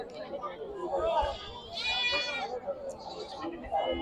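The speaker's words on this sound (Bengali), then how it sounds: "এখানে সবই পাঠি ছাগল দেখেন" Goats bleat at a busy livestock market for local goats, a few sharp nearby bleats over a constant murmur of crowd chatter and talking voices.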